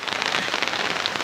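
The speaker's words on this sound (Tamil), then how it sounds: "அப்பேற்பட்ட மழை, கொஞ்சமான மழை கிடையாது." Heavy rain pours down after three days of steady downpour, a dense close patter of drops drumming on surfaces in an unbroken wash.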